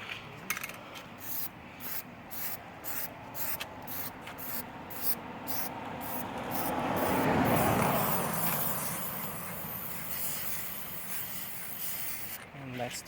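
A can of Plasti Dip sprays a coating onto a car grill in long hissing bursts, short repeated sprays early, then a swelling sustained spray midway, fairly close and with no talking.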